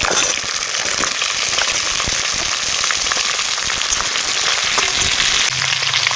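Flat beans, potatoes and yardlong beans sizzle and fry steadily in a hot pan, a constant loud crackling hiss with no talking.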